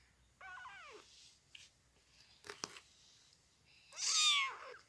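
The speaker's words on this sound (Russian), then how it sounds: "Почему ты так мяукаешь?" A kitten with a runny nose meows twice, near and fairly loud, with a short thin cry at the start and a louder, higher, strained one near the end, separated by brief rustles and clicks.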